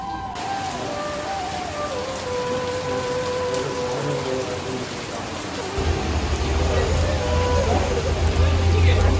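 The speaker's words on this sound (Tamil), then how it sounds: "பயங்கரமாக மழை பெய்ய ஆரம்பிச்சிருச்சு, எக்கச்சக்கமாக மழை பெய்ய ஆரம்பிச்சிருச்சு" Heavy rain pours down outside a roadside shop, a dense steady hiss that grows louder and fuller partway through, with faint voices and a passing vehicle underneath.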